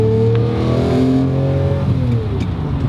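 A Lamborghini Murcielago engine revs hard through its valve timing change, a loud, close, rising then easing mechanical roar with no voices.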